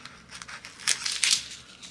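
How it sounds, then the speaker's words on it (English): Scissors cut through paper in a quiet room, giving two or three short, crisp snipping and rustling bursts amid soft background hiss, with no voices. "And I need my scissors again."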